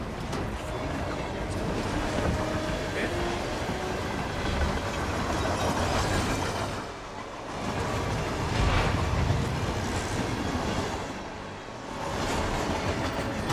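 A train rolling along in the Hitman 3 video game, a continuous loud rumbling rush with wind-like noise that dips briefly twice before surging back.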